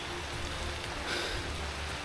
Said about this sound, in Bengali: এই পর্যন্ত আসছি, এখন বৃষ্টিটা হচ্ছে